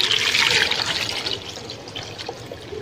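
Water is poured into a pot for boiling eggs, a close splashing rush that is strongest at first and then thins to a lighter trickle with a few drips.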